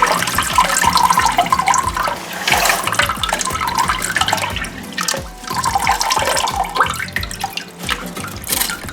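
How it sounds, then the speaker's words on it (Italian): Water runs steadily through the float valve tube of a toilet cistern after the tap is opened, a continuous close gurgling rush with splashes and drips and no talk. "ora dobbiamo aprire il rubinetto e l'acqua dovrebbe defluire dal tubicino in modo"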